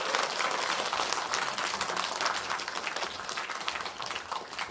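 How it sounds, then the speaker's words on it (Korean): Audience at a traditional Korean pansori music performance claps steadily in a dense, even wash of applause, moderately distant and sustained throughout with no voices. "얼굴 한번 다시 한번 보시고 박수 부탁드립니다"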